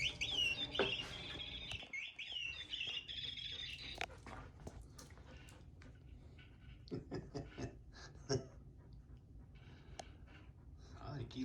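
A chirping toy bird on a cat tower gives a burst of bright, twittering chirps in the first seconds, fairly near, followed by scattered rustling and soft handling noises while a person speaks quietly.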